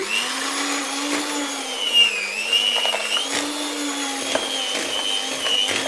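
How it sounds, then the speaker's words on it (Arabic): A steady electric mixer beating biscuit batter whirs continuously with a constant high-pitched drone, wavering slightly in pitch, close by and without speech. "لازم الخليط ده يتضرب كويس، عشان كده انا جبت الخلاط ده، المضرب ده"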